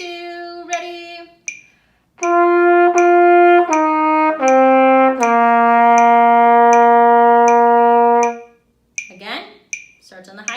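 Trumpet plays the opening of Jingle Bells starting on high G, a run of clear sustained notes and repeated tones, preceded by brief counting-in talk and followed by a few spoken words.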